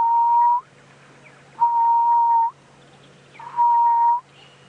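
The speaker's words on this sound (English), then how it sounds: "There's a grey-headed bushshrike calling at the moment in the distance." A grey-headed bushshrike calls at sunset on a safari drive: three long, steady whistled notes, evenly spaced and clear over quiet background hum.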